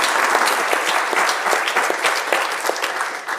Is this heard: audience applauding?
yes